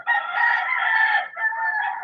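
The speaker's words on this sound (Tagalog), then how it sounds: "Dami manok." A rooster crows loudly and close by in two drawn-out calls, at a home with a flock of more than thirty chickens.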